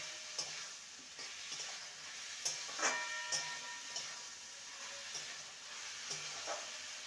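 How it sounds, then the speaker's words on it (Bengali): Potatoes, fried long beans and spices are stir-fried in a pan for a mung dal dish, a quiet sizzle broken by repeated scrapes and clinks of the spatula stirring. "সমস্ত কিছু ভালো মতন কষিয়ে নেব।"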